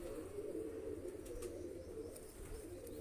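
Soft, low cooing of pigeons kept by a pigeon fancier, a steady murmuring coo close by in a quiet setting, with a few faint higher chirps and no voices.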